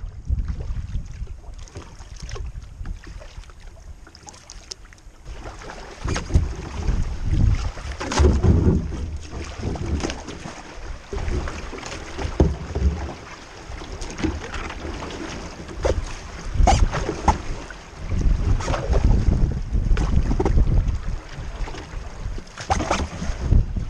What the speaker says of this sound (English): Paddling through the narrows into Neese Lake.